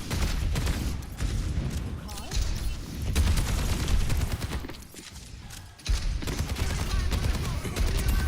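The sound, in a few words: gunfire in the video game Overwatch 2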